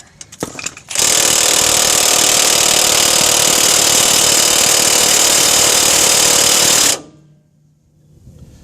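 A Milwaukee battery-powered power tool works a ball joint bolt on a 2003-2009 Dodge 2500/3500 4x4 truck, a loud, steady grinding whir that runs unbroken for about six seconds and then cuts off into near silence.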